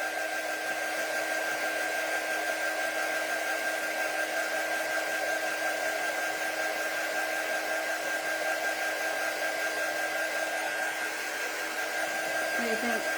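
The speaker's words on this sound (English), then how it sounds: "It dries pretty quick with the heat tool though." A heat tool blows with a steady, even whine and rush of air as it dries craft paint on a Snoopy house box frame, running continuously at close range for the whole stretch.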